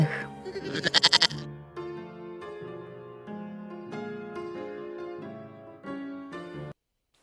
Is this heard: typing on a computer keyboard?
no